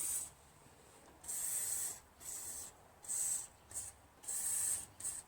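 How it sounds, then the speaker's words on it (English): Lucas Oil lubricant sprayed onto a Craftsman LT1000 lawn tractor's Briggs 21 HP opposed-twin engine in several short hissing bursts of uneven length, close and fairly quiet, with pauses between, no talking. "I'm generously just coating the whole thing with some lubricant"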